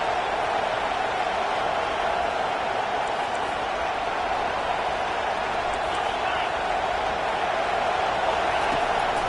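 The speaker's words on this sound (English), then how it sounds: "Decibels rising as the crowd gets behind this defense on 3rd down." A stadium crowd roars at an LSU college football game during a third-down defensive stand, a steady, dense wall of noise that stays loud and even throughout.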